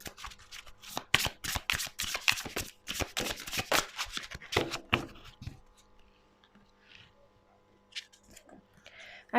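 Tarot cards are shuffled by hand in quick, crisp riffling bursts, close and fairly loud, before the shuffling stops and the room falls nearly quiet apart from faint handling sounds.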